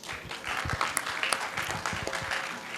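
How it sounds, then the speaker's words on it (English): Sustained applause from a crowd, many hands clapping steadily for a few seconds with scattered louder claps. "A louder applause, please."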